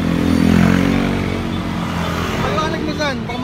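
Several motorcycles in a motorcade parade for Bongbong Marcos in Cavite rumble continuously with engine drone, while someone talks over the noise throughout.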